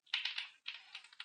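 Quick typing on a computer keyboard while coding, two short bursts of close, soft key clicks separated by a brief pause, quiet and alone.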